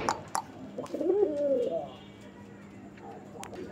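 A pair of pigeons of the big-pigeon (boro payra) and raj-golla breeds coos at close range, a short soft throaty coo in the middle of a quiet room with faint background noises.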